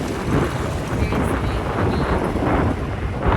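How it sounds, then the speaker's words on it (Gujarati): Cold wind in rainy weather roars steadily against the microphone outdoors, a continuous loud buffeting rush with no voices. "એકદમ મસ્ત ઠંડો પવન આવે છે"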